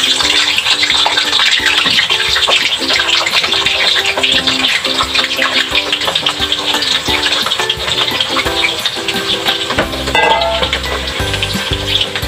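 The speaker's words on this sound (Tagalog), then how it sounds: "Unahin muna natin iprito yung yung patatas." Potatoes frying in hot oil for pork caldereta, giving a loud, dense, continuous sizzle and hiss close up, with a steady repeating musical tune running underneath throughout.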